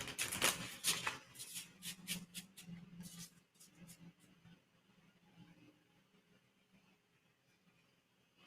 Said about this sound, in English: shuffle these back in.